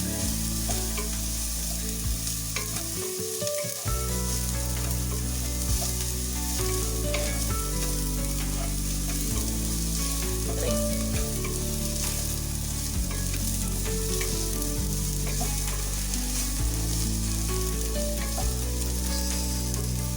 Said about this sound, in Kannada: ಈ ಟೊಮೆಟೊ ಚೆನ್ನಾಗಿ ಫ್ರೈ ಆಗಬೇಕು.